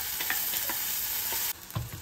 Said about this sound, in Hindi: अब इसमें ऐड कर रहे हैं चटनी